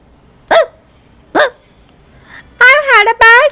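A read-aloud narrator's voice imitates a bird's hiccups: two short, sharp hic sounds spaced about a second apart, followed by the narrator speaking in character.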